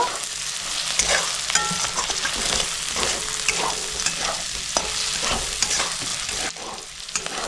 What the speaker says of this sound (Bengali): পেঁয়াজ কুচিটা দিয়ে আমি 2-3 মিনিট ভালো করে ভেজে নেব।